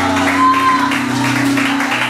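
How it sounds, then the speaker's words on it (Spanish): Church congregation at an evangelistic service clapping together, a brief burst of dense applause close by, with a voice and background tones running underneath. "Den un aplauso a Dios."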